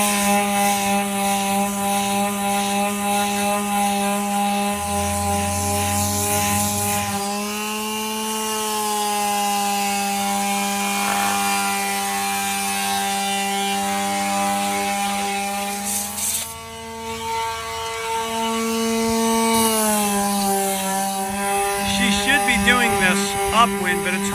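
A power sander with 80 grit sandpaper grinds across a wooden kitchen table top during restoration, a loud steady tonal whine shifting in pitch as pressure changes, with talking underneath.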